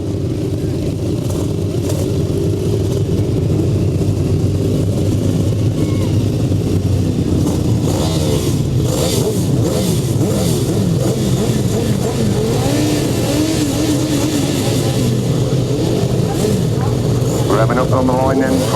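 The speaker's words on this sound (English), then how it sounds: "Revving up on the line then for race 22, for Whitelam" Sidecar grasstrack racing motorcycles rev on the start line of a grass track race, a loud continuous engine roar with rising and falling revs from several machines, under a commentator's voice over a PA.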